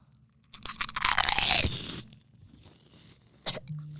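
A prawn cracker is crunched close to the microphone: a loud, brittle burst of crackling for about a second and a half fades into quieter chewing, then one short crunch returns near the end.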